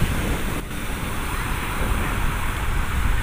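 Waves and surf at Manila Bay, a continuous loud wash of water mixed with wind buffeting the microphone, with no clear breaks or voices.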